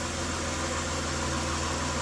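A warmed-up 1990 Dodge Grand Caravan engine idles steadily, an even low hum with a constant mechanical drone and no knocking or ticking heard, recorded up close without talk.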